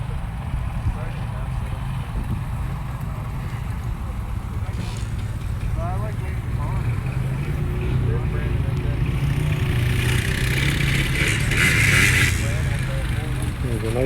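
A Ford tractor rolls in at a plow match parade setup, its low engine rumble steady and fairly near amid crowd noise, with people talking nearby.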